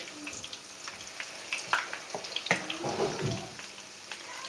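Akara (bean fritters) sizzles and crackles in hot oil, with scattered pops and clinks of utensils close by over a steady frying hiss.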